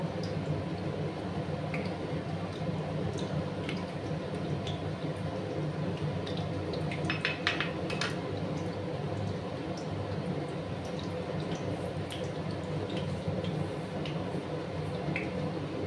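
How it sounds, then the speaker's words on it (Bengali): Peas fry with bay leaf in oil in a pan, a continuous soft sizzle dotted with small crackles and wet pops, a cluster of sharper ticks near the middle, no voices. "তেজপাতা দিয়ে দিলাম। মটরগুলোকে একটু লাল করে ভেজে নেব।"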